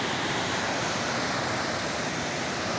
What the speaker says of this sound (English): And either way, this amazing waterfall.